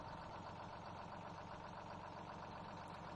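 A fire tower truck, truck 72, idles in Farming Simulator, giving a steady, unbroken engine drone that stays faint and even throughout with no voices.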